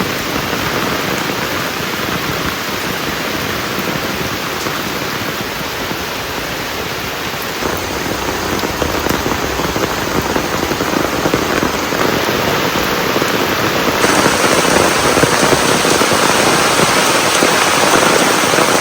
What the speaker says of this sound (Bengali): বৃষ্টি হলে হাঁসদের খুব মজা হয়।